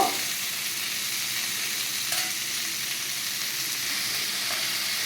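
Salted capsicum frying in a pan while being stirred, a steady close sizzle with soft scraping of the spoon, continuous and fairly quiet.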